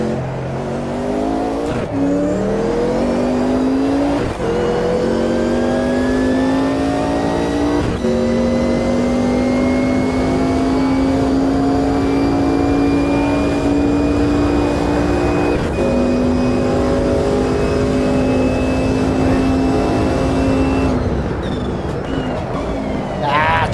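Loud Group C prototype race car engine in a sim racing game, revving hard through rising gear pulls with abrupt upshifts and downshifts, a steady high-pitched whine, and a voice speaking over it.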